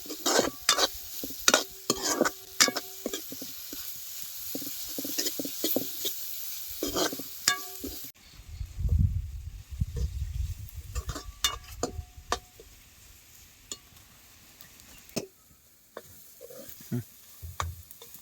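Onion masala and red chilli spices sautéing in a pan for a village-style chana and moong dal tadka, a steady sizzle with repeated scraping and stirring strokes of a spoon against the pan, close and clear with no talking.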